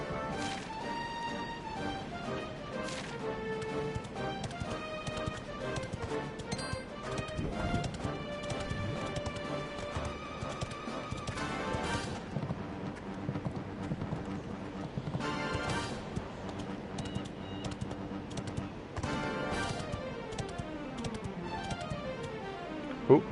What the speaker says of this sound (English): If I can summon my horse anywhere, over land and or sea,